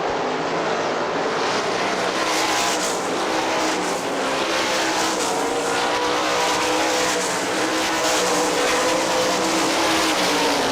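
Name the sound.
sprint cars racing on dirt track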